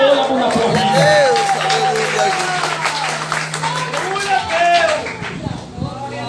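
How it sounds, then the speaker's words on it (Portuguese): An audience at an evening church retreat service claps and cheers throughout, a steady broadband patter that runs beneath a loud voice or singing. "Levanta a tua mão e dê uma salva de palmas para Ele"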